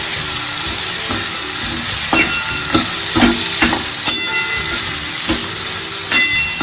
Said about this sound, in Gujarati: તો હવે તેને આપણે આ રીતના સાંતળવા દેવાના છે તેલમાં જ પાંચ મિનિટ